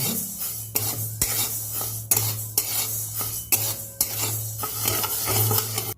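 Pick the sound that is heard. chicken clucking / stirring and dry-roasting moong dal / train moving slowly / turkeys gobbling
stirring and dry-roasting moong dal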